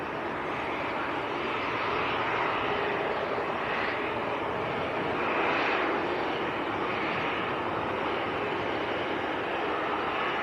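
KLM airplane taxiing at Manchester Airport, a steady broad engine roar heard from a distance that holds evenly throughout with slight swells.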